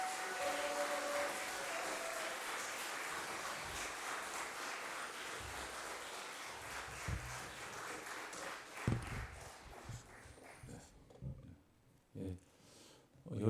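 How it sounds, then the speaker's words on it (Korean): A church congregation at a worship service applauds and cheers to welcome a missionary to the stage. A broad wash of clapping and shouting holds steady, then thins out and drops away to near quiet with a few scattered sounds at the end. "나오실 때 우리 뜨거운 함성과 격려의 박수 보내겠습니다"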